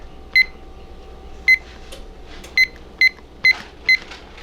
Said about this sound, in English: Oh, I gotta set my timer.